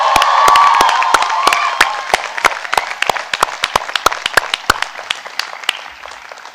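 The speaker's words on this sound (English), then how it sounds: "Let's give them a big round of applause." Audience at a graduation convocation bursts into loud applause and cheering, whoops fading as the clapping thins into scattered, sharp individual claps near the close.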